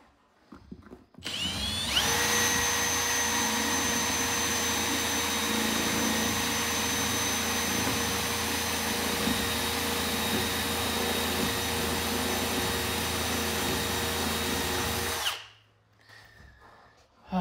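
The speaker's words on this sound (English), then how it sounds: "I am making a channel with my drill bit." A power drill with its bit cutting a channel in wood at an off-grid cabin whines loud and steady for about thirteen seconds, starting and stopping abruptly.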